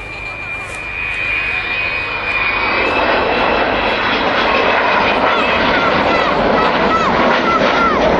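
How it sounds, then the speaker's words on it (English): An Avro Vulcan jet bomber, XH558, roars past overhead at the RAF Waddington Airshow 2011, its engine noise swelling into a loud, sustained rumble, with a faint announcer voice underneath. "Vulcan XH558. Coming back in towards us now, flown from the left-hand seat today by Kev"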